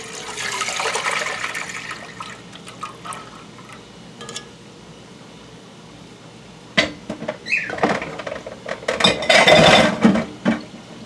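A gallon of milk poured into a pan for making goat cheese, a broad liquid rush at first, then a quieter stretch, then louder sloshing and splashing with knocks of the pan near the end.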